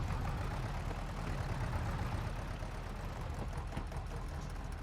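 Tractor engine idling in Farming Simulator 22, a steady, continuous low rumble that holds at an even level throughout without revving, with no talking over it.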